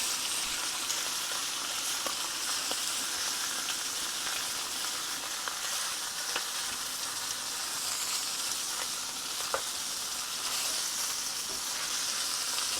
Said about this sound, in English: so I'm going to start searing the sides